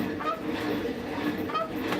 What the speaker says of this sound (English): Birds can be like that.